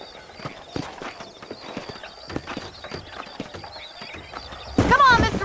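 Horses trotting in the PC video game Red Dead Redemption, a steady clip-clop of hooves on dirt with a loud horse whinny at the end.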